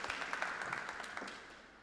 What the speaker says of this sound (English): And it goes, round of applause,